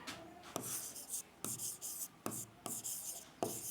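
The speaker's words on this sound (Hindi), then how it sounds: "इसको ना यहाँ लिखते हैं" Chalk or marker strokes on a classroom board during a Class 10 biology lesson, a series of scratchy bursts in an irregular rhythm, close and fairly faint, with no voices.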